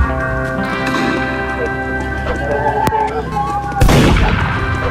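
A single sharp gunshot cracks in a Roblox video game over a busy bed of game music and effects, followed moments later by a louder burst of noise.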